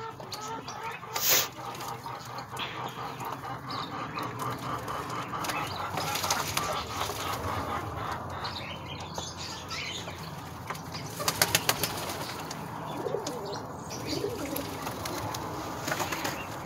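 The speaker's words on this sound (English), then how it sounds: "Nice bath time for the pigeons." Pigeons bathing in water on a hot day, wings flapping and splashing in bursts over a steady outdoor wash of chatter-free background noise, with a sharp flurry near the start and another cluster of flaps later.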